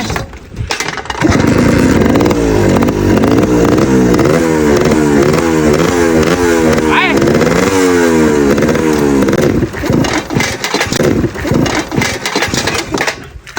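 A motor vehicle is driven with its engine revving hard, carrying a cooking setup on board; loud, close, rhythmic rising revs surge for most of the stretch, with brief bursts of talk near the end.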